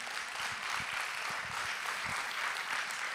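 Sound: church congregation clapping

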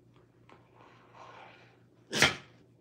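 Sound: rescue Rottweiler dog sneezing

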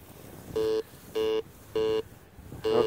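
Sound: metal detector beeping

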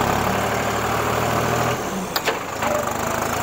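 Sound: Deutz Fahr Agrolux 55 hp tractor engine running

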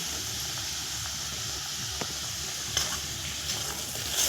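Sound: whole garlic cloves frying in oil

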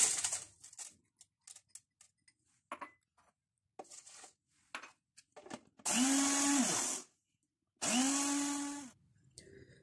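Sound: blender grinding rice with milk

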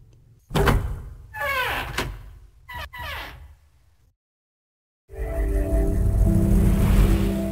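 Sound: door opening in video game Nine Hours, Nine Persons, Nine Doors

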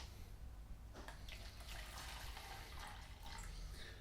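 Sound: water being poured

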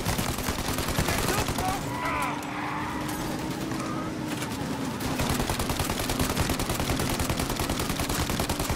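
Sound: gunfire shooting at pursuing police in video game Mafia Definitive Edition

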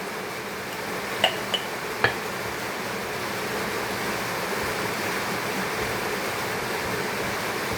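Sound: rain falling outside

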